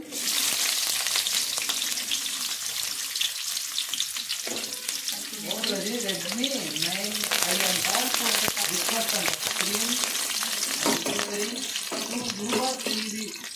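Steady loud sizzling of onions frying in hot oil, with occasional clinks and stirring scrapes; a voice speaks briefly midway over the crackle.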